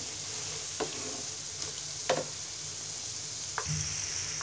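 Potato pakoras frying in oil over moderate heat, a quiet steady sizzle with a few sharp scrapes or clinks of a utensil against the pan, close and without speech.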